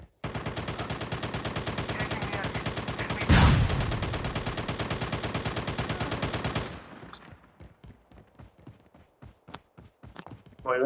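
Rapid automatic gunfire from a high-capacity gun in the video game Call of Duty Mobile, a steady stream of loud shots for several seconds with a blast midway, then slowing to scattered single shots.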